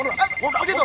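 A telephone rings with a bright, repeating electronic trill, fairly close, brief and continuous.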